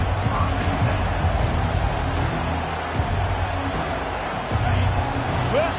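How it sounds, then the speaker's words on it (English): Football stadium crowd roars in a dense, loud, continuous wash of cheering and noise throughout, with no clear individual voices standing out. "Listen to this crowd just shaking the girders of this place trying to help their defense."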